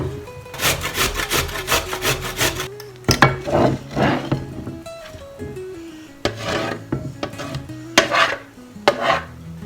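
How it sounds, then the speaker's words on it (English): Organic carrots with the skin left on are grated by hand, producing rapid rhythmic rasping strokes in bursts with brief pauses, close and fairly loud, with no talking. "I just washed them, and yeah, I'm gonna leave the skin on, and then I'm gonna just grate them"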